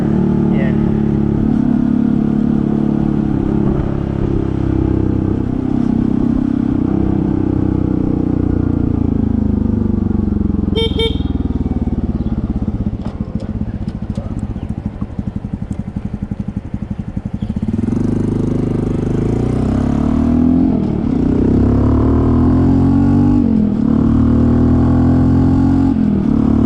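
A Honda CT125 motorcycle with a 142cc big bore engine runs continuously while riding on a scenic route, a loud steady engine drone with rising and falling revs and wind rush, with someone talking over it.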